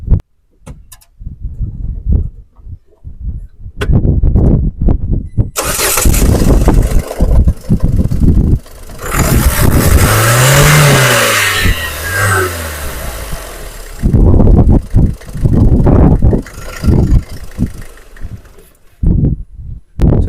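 A Ford EcoSport engine being checked at a used car dealer: it starts and idles, then a loud, near revving stretch with rising and falling pitch swells and settles back to a steady idle, alone with no talk.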